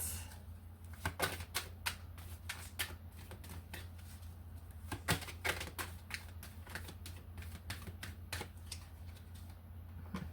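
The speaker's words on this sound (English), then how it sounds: "so we'll shuffle up, get some messages" A deck of tarot cards is shuffled close by, with a steady run of crisp, sharp card snaps and flutters that repeat irregularly and nothing else heard.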